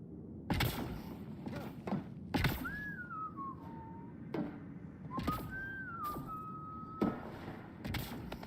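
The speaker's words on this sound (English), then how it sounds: "No whistling." Whistled melodic phrases from a character in the video game Mass Effect Andromeda, two gliding, wavering tunes rising and falling amid intermittent thuds, creaks and mechanical game effects.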